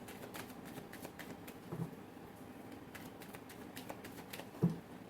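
Tarot cards are shuffled by hand during a reading: soft, faint riffling and tapping in quick irregular bursts, with one slightly louder knock near the end, in a quiet room with no talking.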